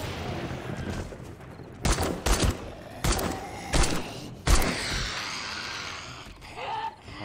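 Assault rifle fire in the video game 7 Days To Die, several loud separate bursts of shots spaced a second or so apart against quieter game background noise.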